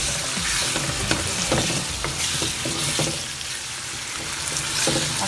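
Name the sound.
chicken frying in a pan for chicken do pyaza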